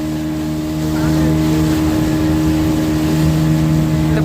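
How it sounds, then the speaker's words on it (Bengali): Motorboat on the water at Massanjore Dam, its engine droning close and steady, growing louder after a second, with rushing wind and faint voices underneath. "আমার বোটের সামনে দাঁড়িয়ে গেছি আমরা বোর্ডের উপরে চলে এসেছি সামনে একবারে"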